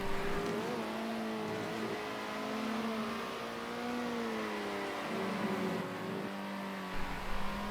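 Race cars on track in a sim racing replay give a steady, fairly loud engine drone whose pitch rises and falls with each gear change and straight, continuous for several seconds.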